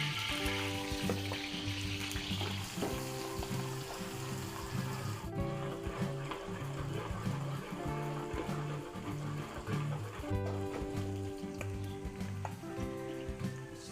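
Garlic sautéing in a hot pan for Filipino chopsuey, a steady close sizzle and crackle of oil running throughout, with background music and no talk.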